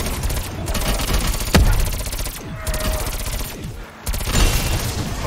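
Video game gunfire: repeated bursts of rapid shots and a sharp impact, dense and loud throughout, with brief pauses between volleys.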